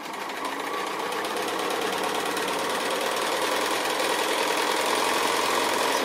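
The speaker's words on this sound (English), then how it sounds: "now I'm just going to stitch along that line that's there" Sewing machine running continuously as it stitches a foundation-pieced quilt block, a steady close, fairly loud mechanical whir with fine rapid needle clatter throughout, no talking.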